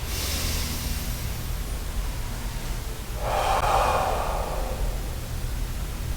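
A deep exhaled breath during a karate class warm-up breathing exercise, a soft broad airy whoosh swelling up near the middle and fading out over a steady low background hum.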